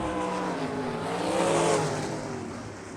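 ASCS Elite non-wing sprint cars race down the back stretch at South Texas Race Ranch, a loud, continuous engine roar that swells to a peak and then eases as the cars sweep past.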